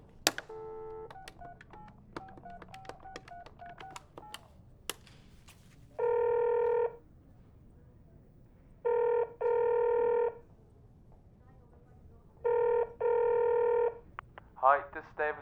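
A telephone call rings out in three repeated bursts of steady ringback tone, each about a second long and separated by pauses, after brief dialing beeps and a faint voice early on.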